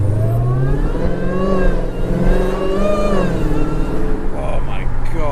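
Supercharged Dodge Hellcat fitted with a Bwoody intake accelerating at modest speed, rising engine note with a clear supercharger whine sweeping up through the gears, steady and loud throughout.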